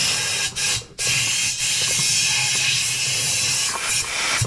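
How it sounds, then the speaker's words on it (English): Compressed air blasting through a Troy Bilt Storm 2660 snow blower carburetor, a loud, close, continuous hiss with a couple of short breaks at the start, then holding steady to the end. "if you hit up through the top with your air, you can just go ahead and blow it out real good"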